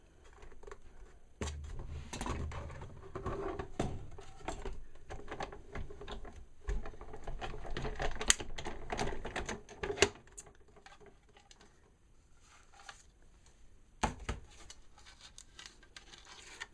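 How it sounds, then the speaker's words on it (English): A Cuttlebug die-cutting and embossing machine cranks a plate stack through its rollers, a busy run of clicking, grinding rattles that pause around the middle, then a few sharp taps and a brief final burst. "and then you're going to run that through your Cuttlebug."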